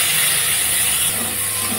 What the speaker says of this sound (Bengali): এবার সরু দাঁড়াগুলো আমি ভেজে নেব।